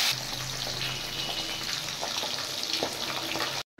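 Pabda fish fry in hot oil with a steady crackling hiss and scattered sharp pops, fairly close, before the sound cuts off abruptly near the end.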